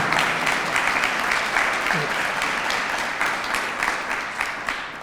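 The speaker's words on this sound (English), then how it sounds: "How about another round of applause for Dr." An audience at a Catholic biomedical ethics lecture gives a speaker a round of applause: steady, dense clapping from many hands, loud and sustained throughout, easing only slightly toward the end.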